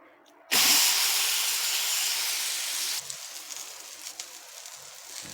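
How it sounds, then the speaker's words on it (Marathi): A thalipeeth, a multigrain flatbread, goes onto a hot griddle with a sudden loud sizzle that holds as a steady hiss, then settles into a quieter crackling sizzle. "आणि आता हे आपण तव्यावर घालणार आहोत"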